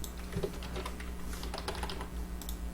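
A computer keyboard pressed during Photoshop work, with the Ctrl+T shortcut being keyed: a few soft key clicks over a steady low background hum.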